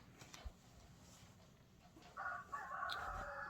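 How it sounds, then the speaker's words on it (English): A rooster crows in the distance, a drawn-out call rising over quiet outdoor background noise, followed by a second shorter crow. "Oh, do you hear that? That's my rooster."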